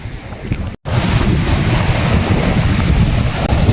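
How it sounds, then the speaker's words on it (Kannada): Rough sea waves roar in a steady, loud wash mixed with wind buffeting, with a brief dropout near the start and no voices. "ನೀರಿನ ಅಲೆ ಕೂಡ ಬಹಳ ಜೋರುಂಟು"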